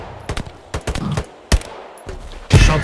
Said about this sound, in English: Shots front, south